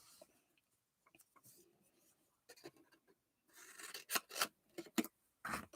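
Scissors snip and slide through paper for scrapbooking, a scattered series of faint rasping cuts growing into several louder crisp snips near the end, close up and quiet.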